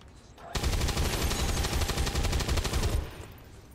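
A sustained burst of rapid automatic gunfire in the turn-based strategy game XCOM 2, loud and rattling for about two and a half seconds, starting abruptly and cutting off cleanly.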